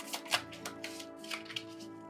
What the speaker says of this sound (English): Overhand shuffle, very easy.